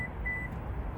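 A Toyota Sienna's door warning sounds as two short high beeps close together, over a low rumbling background.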